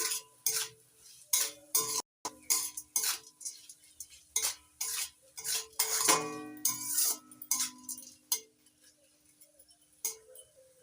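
A spoon scrapes and clinks against a pan as salt is stirred into vegetables for semolina upma, giving irregular close taps and scrapes with brief pauses, fairly quiet overall.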